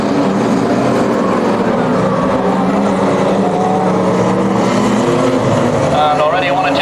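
Banger racing cars pulling away at the start of a 15-lap race at Warton in 1997, a loud continuous roar of several engines revving together, with a commentator talking over it throughout.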